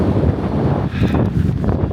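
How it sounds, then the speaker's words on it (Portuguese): Strong, cold wind buffets the microphone at the summit of Mount Fuji near the crater, a loud, continuous rushing roar that fills the whole short stretch. "Vento absurdo"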